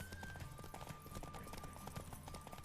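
Horse hooves gallop at speed during a race in The Witcher 3, a rapid clip-clop rhythm pounding continuously over a low game background, with no talking.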